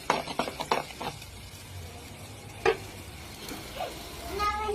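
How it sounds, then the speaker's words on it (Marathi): A thick masala of tomato puree, spices and a chickpea-potato paste sautés in oil, with a quick run of spoon scrapes and taps at the start, one later knock and a soft sizzle underneath. "मसाला व्यवस्थित तेलात परतून घ्यायचा आहे"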